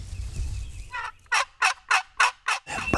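Wild turkey gobbling outdoors during a hunt, a rapid series of five or six loud gobbling bursts after a quieter low rumble, fairly close and clear.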